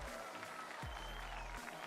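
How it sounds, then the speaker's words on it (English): An audience at an Overwatch esports group-stage match applauding, a dense even wash of clapping heard from a distance, with a short voice cutting in partway through. "See, they're literally applauding me."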